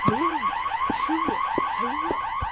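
A car alarm in the Hello Neighbor video game blares continuously, with looping rising-and-falling electronic tones and repeated sharp chirps, loud and close.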